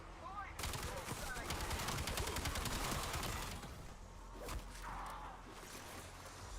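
Rapid hip-fire gunfire in the Black Ops 7 Zombies video game, a loud stream of fast repeating shots over several seconds that then thins into scattered bursts and whooshes amid game noise, with a person talking.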